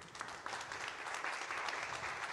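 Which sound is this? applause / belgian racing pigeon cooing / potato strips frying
applause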